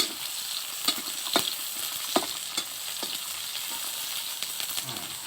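Vegetables stir-fried in a wok for golden fried rice, a continuous loud sizzle and hiss with repeated scraping strokes and clacks of the spatula, close up with no talking.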